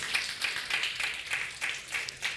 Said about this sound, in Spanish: Alguien déle un aplauso fuerte al Señor.